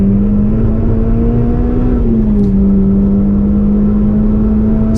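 Renault Clio 200 race car on a wet track at Oulton Park, its engine droning loud and steady in onboard perspective, pitch dipping slightly then holding as it pulls along, with no talking.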